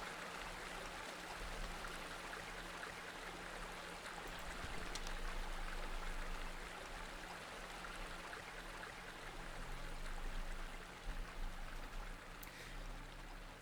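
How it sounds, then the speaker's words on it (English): A waterfall pouring out of a large tree in the game Eastshade makes a steady, soft rushing wash of water that continues unbroken and fairly faint, with no talk. "There's a big sort of waterfall coming out of the tree itself."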